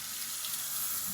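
Tap water runs steadily onto fabric slips in a sink, a bright continuous hiss and splatter lasting about a second with no voices.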